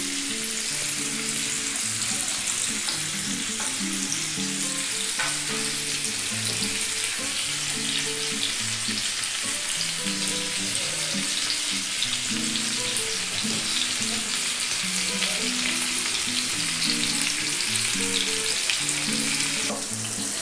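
Chicken tangdi kebab frying in oil in a pan, a loud continuous sizzle with steady crackling that runs unbroken throughout.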